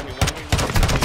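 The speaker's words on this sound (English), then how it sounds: "Watch how bad these shots are." Gunshots in Call of Duty: Modern Warfare II crack in two quick bursts, loud and close, each a sharp broadband hit trailing into a short rattle.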